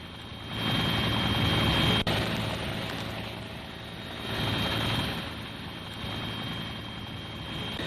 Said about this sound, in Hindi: श्रद्धालुओं के ऊपर पुष्प वर्षा कराई गई है हेलीकॉप्टर से